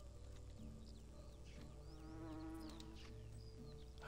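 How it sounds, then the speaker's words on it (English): Steady insect buzzing with a low drone fills the background in the medieval survival game Medieval Dynasty, holding continuously at moderate level with faint bird chirps above it. "I hear that buzzing."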